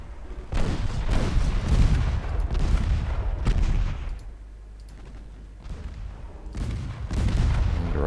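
Warship guns boom in a naval battle game, heavy repeated salvos rumbling in dense bursts with brief lulls between volleys, loud and close, no voices.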